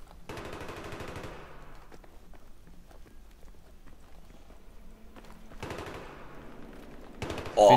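Machine gun fire in the video game Battlefield 3, two rapid bursts of rattling shots several seconds apart with footsteps and quieter game sounds between them, ending in a sudden loud blast.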